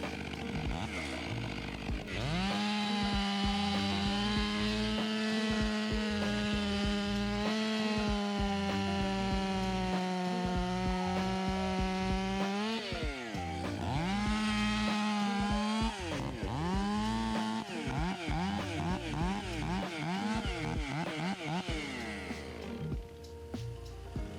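A chainsaw with damaged cutters runs steadily and close, its engine pitch wavering and dipping as it bites into wood, with a rough chattering edge throughout.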